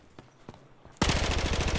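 Machine gun fire in the video game Battlefield Hardline: a few scattered sharp shots, then a loud sustained rapid burst of automatic fire, with no talking.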